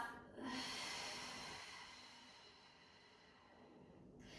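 A long, steady exhale pushed out through the mouth during a Pilates core breathing cue, a broad airy rush that swells early, then slowly fades over several seconds, close to the microphone and without talk.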